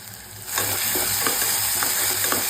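Onions and tomatoes with ginger-garlic paste sizzle in a pan for a mutton bone curry, a steady frying hiss punctuated by repeated scraping strokes of stirring, close by, with no talking.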